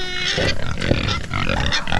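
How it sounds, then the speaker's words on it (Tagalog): Pigs on a small free-range farm grunt and squeal near the microphone while they wait to be fed cassava. The grunts are loud, busy and overlapping for the whole stretch, with no talk. "yung mga baboy namin nandyan na, nag-aantay na sila para bigyan natin ito kasaba"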